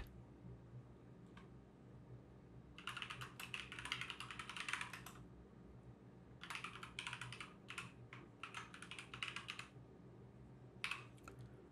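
Bursts of typing on a computer keyboard while entering a database command, quick clustered keystrokes in several runs separated by pauses, fairly close and moderately loud over a low steady hum.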